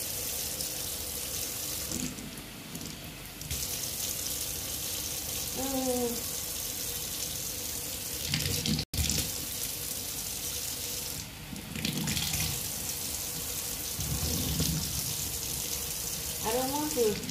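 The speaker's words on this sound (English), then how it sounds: "Let me just wash this in the water." Running tap water splashes steadily throughout, with louder bursts of washing and brief clinks, while a voice speaks faintly at moments.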